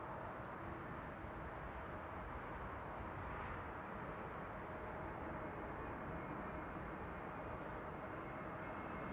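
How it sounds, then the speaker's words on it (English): A TAP Air Portugal Airbus A320neo, flight 668 from Lisbon, on approach to Amsterdam Schiphol, heard as a steady, distant broadband engine rumble that holds evenly throughout with no talk over it. "I think I can hear the TAP Air Portugal A320neo approaching behind me."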